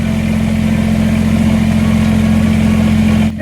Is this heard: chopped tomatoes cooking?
no